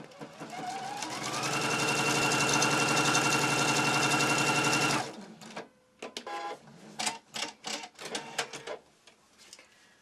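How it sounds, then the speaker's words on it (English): A sewing machine stitches across the top of two pieces of fabric placed right sides together for a lined wine bottle cover, a loud steady whirring run for about five seconds, then stops, followed by a few brief clicks and handling sounds. "we'll put the two right sides together and simply machine across the top"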